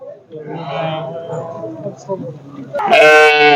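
Rams bleat at a livestock market in Zharkent, with a drawn-out, wavering bleat followed by a louder, closer one at the end, while people nearby talk over the animals.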